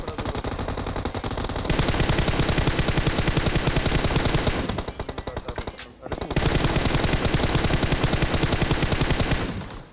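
Sustained, loud automatic gunfire in a BGMI gunfight fills the scene as rapid bursts rattle almost continuously, with a short lull midway before the heavy firing resumes.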